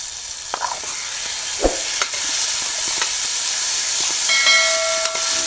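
Ridge gourd vegetable stirred in a hot pan as it finishes cooking, a continuous soft sizzle and hiss with occasional scrape and tap of the spoon against the pan.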